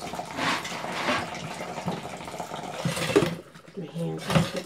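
Tap water runs steadily into a kitchen sink while canned corned beef is rinsed, a close hissing splash with clattering and handling noises, and a person talks over it.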